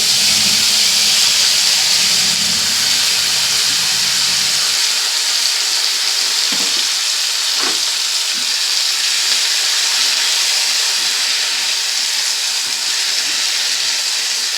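Chopped tomatoes drop into garlic frying in hot oil, setting off a loud, steady hiss and sizzle that carries on unbroken, with a few faint stirring scrapes and no talking.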